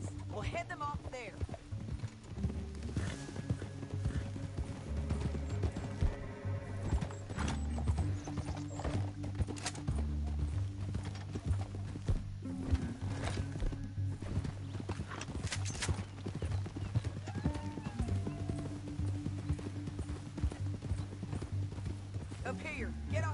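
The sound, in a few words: horses riding, hooves clip-clopping, from video game Red Dead Redemption 2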